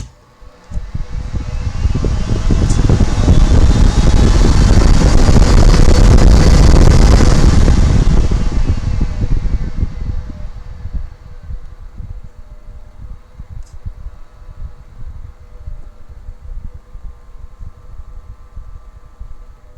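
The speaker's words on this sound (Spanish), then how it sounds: "Vamos a ir poniendo poco a poco y ir escuchando el ventilador como se escucha." A DIY wind simulator fan for a sim-racing rig spins up into a loud, steady whooshing roar, holds for several seconds, then drops back to a quieter, continuous hum.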